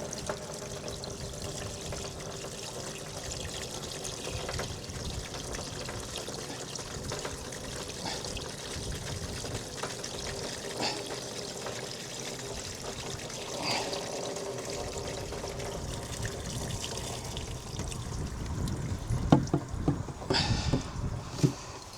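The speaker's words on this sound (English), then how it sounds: "I'm going to pour all this in just to put some weight in that water butt." Water poured into a garden water butt, a steady, continuous splashing and trickling that runs the whole time at moderate volume with no talk, growing a little busier and louder toward the end.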